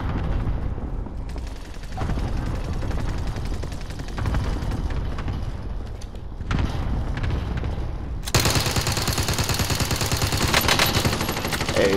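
Rapid automatic gunfire rattles in dense sustained bursts in Call of Duty: Modern Warfare, with booming impacts, a brief lull, then an even louder, harsher barrage near the end.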